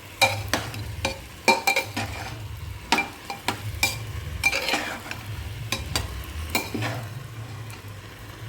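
Rice and lentils being stirred and lightly fried for khichuri, a soft steady sizzle under repeated scraping strokes of a spoon against the pan, close and continuous, with no talk.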